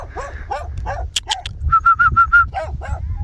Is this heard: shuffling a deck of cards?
no